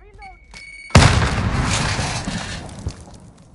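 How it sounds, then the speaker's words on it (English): A grenade explodes in a Call of Duty match, a sudden loud boom with a long rumbling tail, right after a voice speaks briefly. "Grenade."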